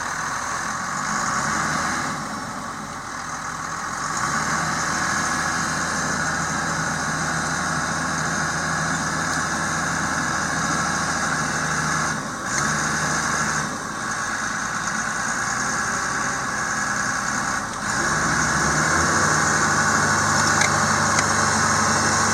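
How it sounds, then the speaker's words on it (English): Engine of a skidder on a farm runs steadily and loud while the machine pulls out of a rut, a constant low rumble with a few brief dips, no talking over it. "let's see if we can go get this skidder out of this rut"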